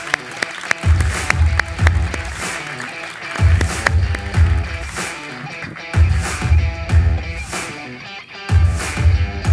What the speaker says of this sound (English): some extra warm applause, please